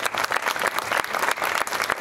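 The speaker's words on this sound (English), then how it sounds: "join me in giving them a great round of applause for" An audience at a ribbon-cutting ceremony for a community court applauds elected officials, dense continuous clapping from many hands filling the room at close range.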